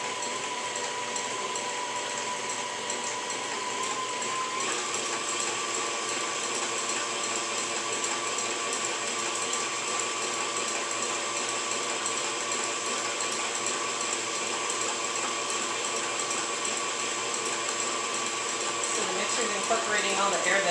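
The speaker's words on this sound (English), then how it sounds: "You just need to let it do its work with the mixer." An electric mixer whips marshmallow fluff with a steady, loud motor whine and churning hum that runs unbroken and rises slightly near the end; no voices.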